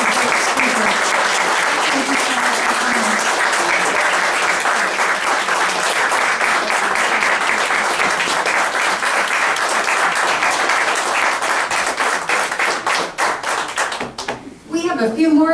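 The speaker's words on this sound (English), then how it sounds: "Give them a round of applause" Sustained audience applause and clapping from a crowd at a roundtable event, dense and steady for most of the stretch, thinning out near the end with some voices audible.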